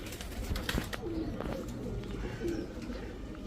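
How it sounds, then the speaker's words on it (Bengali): A green-eyed female pigeon coos softly in a few low, rolling phrases, heard close over a steady background hiss. "খুব সুন্দর একটা গ্রিন চোখের মাদি কবুতর।"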